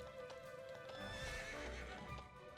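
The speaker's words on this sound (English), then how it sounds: "This is my horse." A horse in Dragon Quest XI clip-clops along with rhythmic hoofbeats and gives a neigh, fairly faint, set against game music with no talk.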